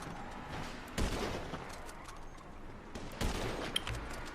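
Gunfire in GTA 5, bursts of rapid shots and distant firing under a steady game backdrop, with two loud volleys standing out.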